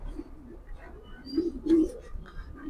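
A racing pigeon gives a few soft, low coos in short bursts, quiet and close, with faint background noise and little talk.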